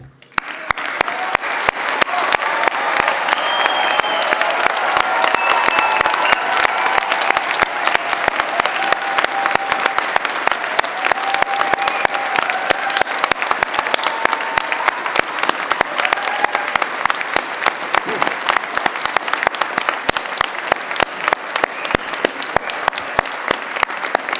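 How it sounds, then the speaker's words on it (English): A large audience at a university graduation ceremony gives a long, rousing round of applause for the graduates, dense continuous clapping sustained at full strength with faint crowd murmur underneath. "Let us honor these incredible graduates with one final rousing round of applause, raising the roof"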